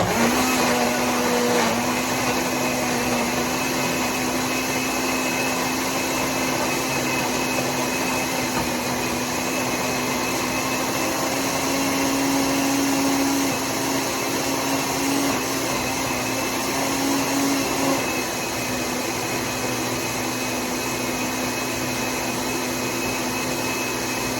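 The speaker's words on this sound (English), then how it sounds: "So then we're gonna blend." A blender whirs steadily for the whole stretch, blending spinach into a detox drink, its loud continuous motor drone holding an even pitch with a slight dip near the end and no voices over it.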